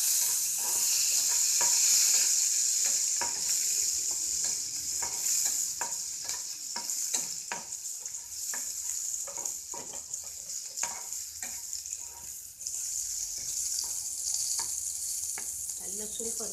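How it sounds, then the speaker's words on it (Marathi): Crushed garlic, cumin seeds and chopped chili sizzle steadily in hot oil while making kardai bhaji, a bright continuous frying hiss broken by frequent short clicks and scrapes of stirring, close and fairly loud, with no talking. "आता हे तेल तापलेलं आहे. त्यामध्ये आपण हा ठेचलेला लसूण घालूया, जिरं घालूया"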